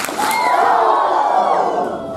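Kids at a football camp yell a drawn-out group "woo" after quick claps, a loud, sustained crowd cheer that tapers off near the end.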